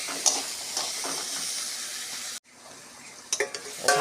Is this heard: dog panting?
no